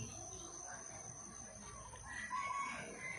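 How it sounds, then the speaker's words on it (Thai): Rooster crowing outdoors at a moderate distance, its drawn-out call rising near the end over a steady background hiss of birdsong and ambient noise. "นี่ก็ไก่ขันเลย"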